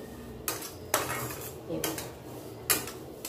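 Coarse flour roasting in a pan over low gas, stirred with a metal spoon that clanks and scrapes against the pan in several sharp, close strokes with quieter scraping between.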